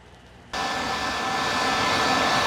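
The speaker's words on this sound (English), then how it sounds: "This is my new dryer here." A pet grooming dryer switches on abruptly after a brief quiet moment and blows with a loud, steady broadband roar while drying a Morkie dog on the grooming table.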